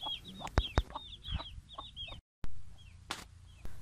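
Mianwali Aseel rooster moving with three or four chicks, with repeated high chick peeps over soft clucks and a few sharp knocks, close and fairly quiet, cut by a brief dropout.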